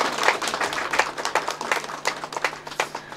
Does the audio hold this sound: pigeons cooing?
no